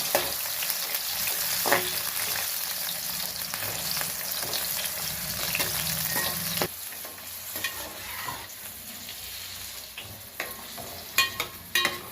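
Brinjal pieces fry in hot oil, giving a loud, continuous crackling sizzle that thins out partway through, followed by irregular clicks and scrapes of stirring, with no talking.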